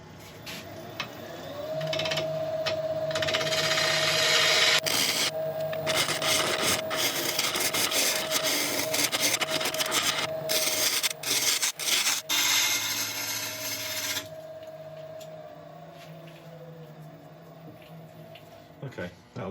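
A wood lathe spins a workpiece mounted on a faceplate as a tool cuts a gradual curve, with a steady motor hum under loud, scraping, rasping cuts that start and stop in bursts before dropping back to the idling whine.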